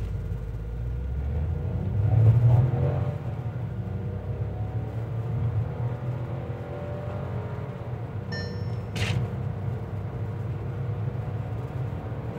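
A 2025 Skoda Kylaq launches from rest and accelerates, its engine rising from a low rumble into a building, steady drone with rising whine, heard from inside the car at moderate level.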